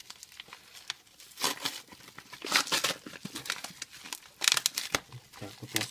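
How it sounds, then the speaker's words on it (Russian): A small, cheap knife cuts open a parcel containing a phone case, giving close crinkling, rustling and tearing of packaging in irregular bursts. "сегодня буду открывать таким беспонтовым ножом"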